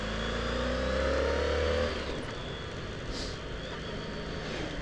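A car overtakes a motorbike on the road, its engine rising in a steady roar before fading as it pulls ahead, heard close over constant wind and engine rumble.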